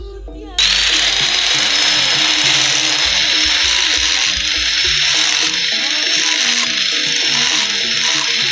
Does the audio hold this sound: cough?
no